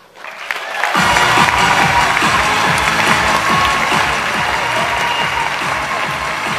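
Sustained audience applause during a live Pampered Chef gift shopping party, starting abruptly after a second and continuing at a steady, dense level for several seconds.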